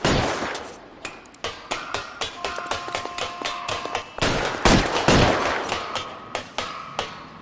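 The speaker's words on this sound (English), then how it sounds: "I'll lay down some suppression fire." Suppressing gunfire in L.A. Noire rings out in rapid, loud bursts of close shots, sharp cracks repeating unevenly over several seconds with glassy impacts mixed in.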